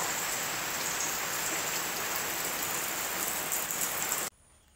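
Steady rain falls outdoors during a fishing outing with a new net, making a dense, even hiss that holds for about four seconds and then cuts off abruptly, leaving near silence.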